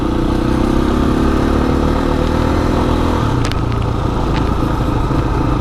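A 2020 Husqvarna FE350 dirt bike engine runs loud and close, a steady rough mid-pitched drone with a slight shift in tone partway through and a little clatter.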